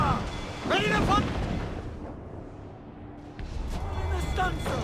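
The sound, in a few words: ship cannon firing in video game Assassin's Creed Black Flag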